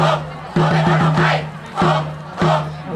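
A cheer squad crowd chants and shouts together at a sports event between constitutional organisations, loud and rhythmic, with drum-like beats driving bursts of massed voices.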